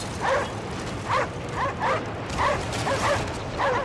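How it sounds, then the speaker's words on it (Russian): Dogs bark repeatedly in the Anabiosis: Dream of Reason video game, a series of about eight muffled, evenly spaced barks at moderate distance over a low ambient rumble. "Собачки, что ж вы гавкаете,"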